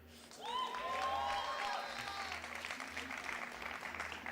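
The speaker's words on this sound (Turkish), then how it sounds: "Alkışlar da kesildi zaten." Audience applause at the EA E3 2018 press conference, a full room clapping that swells quickly, holds steady and then thins out toward the end.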